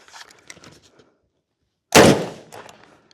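A single sharp, loud outdoor shot from a Ruger Mini-14 rifle cracks close by and decays quickly, with faint rustling before and after.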